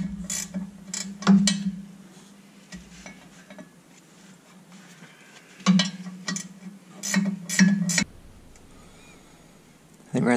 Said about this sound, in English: Just taking out these two bolts and pull that cover off of there.